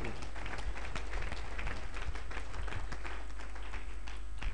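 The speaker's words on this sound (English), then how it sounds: "Give the Lord a clap of." A church congregation claps and applauds together during a prophetic ministry service, a dense, steady patter of many hands filling the room, with murmured voices underneath.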